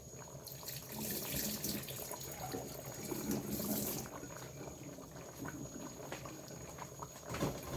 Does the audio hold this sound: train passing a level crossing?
no